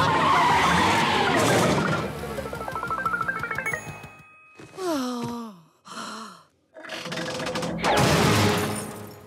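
Cartoon car skidding under hard braking in a SpongeBob race scene: a loud, long screeching skid with rising tonal squeals, then short sliding squeaks and a final burst of engine and tire noise.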